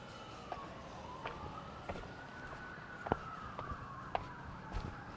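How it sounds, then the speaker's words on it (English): A faint siren wails far off in the city below, rising and falling slowly, heard from just above Santa Barbara, with scattered clicks and small knocks nearby. "Some sirens off in the distance down in the city."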